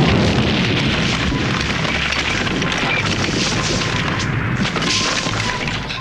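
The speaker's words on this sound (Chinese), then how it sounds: "拿着煤气罐把细姐炸了个半死" A gas canister explosion in a Lam Ching-ying supernatural exorcism film gives a loud, sustained booming roar with crackling debris throughout, heard alone without talk.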